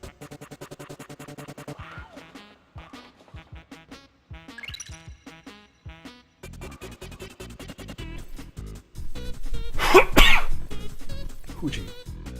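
A cartoon character sneezes in The Simpsons Bowling video game, a loud burst standing out near the end among chiptune-style game music and short effect sounds.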